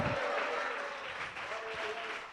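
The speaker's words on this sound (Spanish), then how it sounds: "Dele ese aplauso al Señor" Congregation applauding in a church service, steady dense clapping throughout, moderately loud and sustained without a break.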